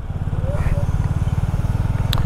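A Royal Enfield Classic 350 cruises in fifth gear in Salvador traffic, its single-cylinder engine thumping in a steady, close, low pulse beneath a man's speech.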